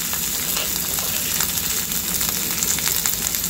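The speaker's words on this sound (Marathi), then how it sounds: "आता यामध्ये आपण तयार केलेले मिरची, अद्रक, लसूण याची पेस्ट घालून घ्यायची आहे." A paste of green chili, ginger and garlic sizzles and fries in hot oil in a pan, giving a steady, close hiss with faint stirring scrapes and no voices.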